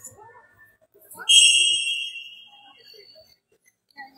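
At a women's volleyball practice match, a referee blows one sharp, shrill whistle blast lasting under a second, with faint talk and hall noise before and after.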